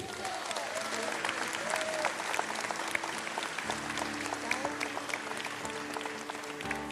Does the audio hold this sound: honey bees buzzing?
no